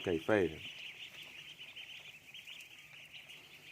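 A dense chorus of high, thin peeping from many Khaki Campbell ducklings under a heat lamp runs throughout, with a brief louder voice near the start.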